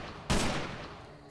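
A single loud gunshot rings out in a video game, a sudden burst with a decaying tail, preceded by a low ambient hum.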